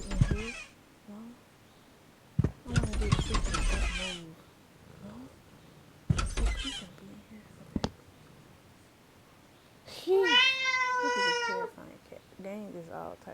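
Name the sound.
cat meowing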